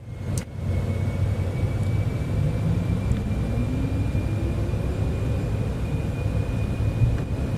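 A Cessna Citation X business jet rolls for takeoff in Microsoft Flight Simulator 2024, its engines giving a steady loud roar with a thin high whine held throughout.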